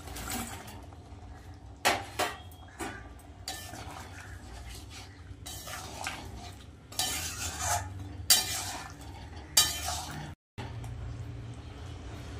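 Fried moong-soybean dumplings added to simmering curry and stirred, with a low bubbling under repeated close clinks and scrapes of a spoon against the pot and a short gap near the end.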